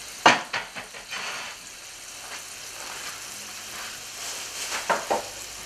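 Cod fillets sizzle in a frying pan with a steady, soft hiss, broken by a few sharp clinks and taps near the start and again toward the end.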